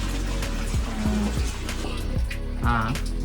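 Water gushing under force from a pipe that drives a traditional Nepali watermill, a loud continuous rushing roar close by, with a voice briefly audible under it.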